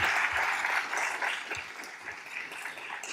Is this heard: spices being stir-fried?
no